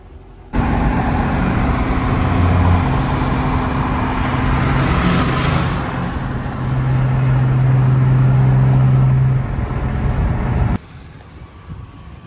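A Saab 9-3 Aero big turbo build engine idles steadily while warming up at close range for about ten seconds, a continuous low rumble with a faint shift in pitch partway through.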